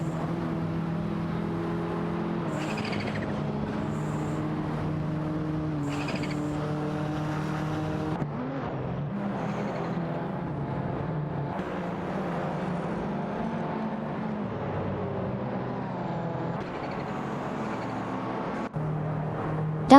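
Racing cars in a video game, including a Mitsubishi GTO Twin Turbo, jostle for position: a continuous layered engine drone with shifting pitches holds steady for twenty seconds, with occasional brief higher whines cutting through.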